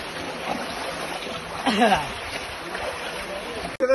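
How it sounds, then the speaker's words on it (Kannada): Floodwater pours into village houses after a night of heavy rain, a steady rushing and trickling wash that continues throughout, with a voice speaking briefly over it. "ಈಗ ಈ ತರ ಒಂದು 10 ಮನೆಗೆ ನೀರು ನುಗ್ತಾ ಇದೆ ನೋಡಿ"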